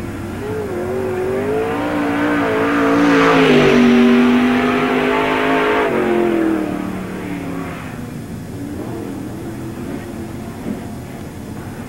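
A 56 race car, driven by Gary Webb, on a qualifying lap at Tri-City Speedway in a 1997 NASCAR Busch All Star Tour event, its engine note rising loud as it passes, then fading into the distance.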